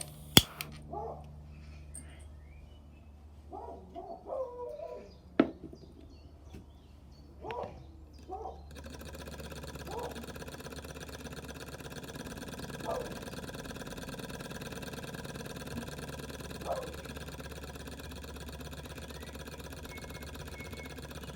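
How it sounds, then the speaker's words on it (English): A small restored Stirling engine runs with a steady, fine mechanical whir and faint ticking after a few sparse clicks and handling knocks, continuing evenly at low, close level with no talk. "the engine, as you can see, is running perfectly"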